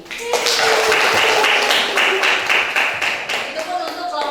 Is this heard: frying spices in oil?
no